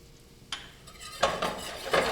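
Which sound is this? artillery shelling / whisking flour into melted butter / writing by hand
whisking flour into melted butter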